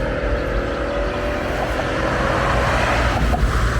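A bus rumbles across a bridge in Füssen, Germany, a loud, continuous low roar of engine and road noise passing close by for several seconds.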